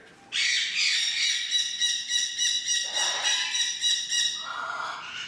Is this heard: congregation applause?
no